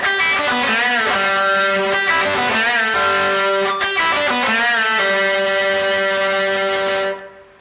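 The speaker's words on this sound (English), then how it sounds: "And then it's a pull off to the open string. So it sounds like this." Distorted electric guitar plays a short rock fill with bent notes and quick picked attacks, ending in a pull-off to the open string that rings on as a long loud sustained note before cutting off.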